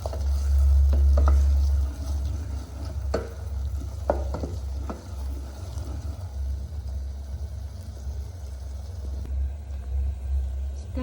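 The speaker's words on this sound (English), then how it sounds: "on medium heat, I'll allow my onions to cook" Onions frying over medium heat, a steady close sizzle with intermittent scraping strokes of a spoon stirring through the pan, under a low rumbling background hum.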